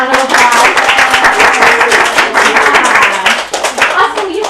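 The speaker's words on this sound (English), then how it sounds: "Let's give Michael a round of applause." A room full of people clap steadily for a child at a school book-sharing session, a dense, even patter that holds for several seconds with a few voices murmuring underneath.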